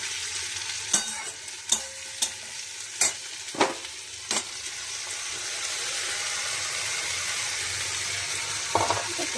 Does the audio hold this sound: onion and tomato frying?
yes